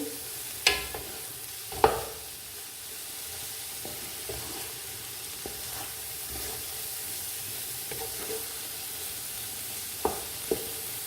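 Soft sizzling with gentle scraping and occasional sharp clinks as a spoon stirs carrot halwa in a pan, close and fairly quiet.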